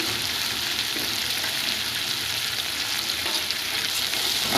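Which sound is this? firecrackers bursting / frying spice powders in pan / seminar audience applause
frying spice powders in pan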